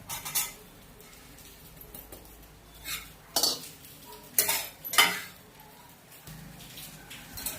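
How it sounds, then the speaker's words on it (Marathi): Grated coconut dry-roasting in a pan while a metal spoon stirs and scrapes it, giving several loud clinks and scrapes against a quiet background. "आता आपण खोबरं भाजून घेऊया"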